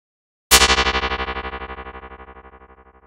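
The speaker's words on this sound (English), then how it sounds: "we take plucked sound and multiply it by LFO, which is low frequency oscillator" A single plucked tone rings out after a brief silence and decays slowly, its loudness pulsing in a fast, even tremolo from an amplitude-modulating 6 Hz LFO.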